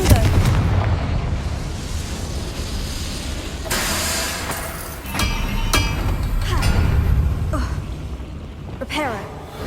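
Booming spell blasts in the Hogwarts Legacy game, the Confringo fire curse, with several loud bursts and crackling impacts over a dense bed of game music and effects, with voices speaking in between.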